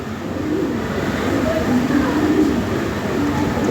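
Modena and Lahori pigeons coo softly under steady broadband background noise, the calls low and blended into a continuous ambient hum rather than standing out clearly.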